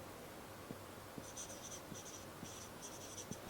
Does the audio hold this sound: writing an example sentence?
yes